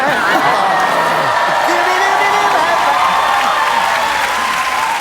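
A studio audience on a Korean comedy show claps in a thick, continuous wash, with cheering and whoops mixed in and voices talking over the top.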